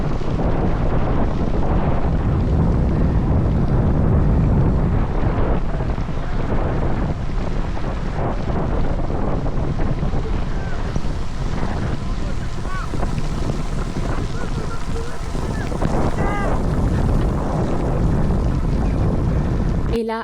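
Heavy wind buffets a cyclist's microphone on a hairpin turn at the 24-hour Le Mans cycling race, a loud continuous roaring rumble with gusty surges throughout and no voices.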